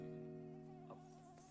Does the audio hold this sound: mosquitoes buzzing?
yes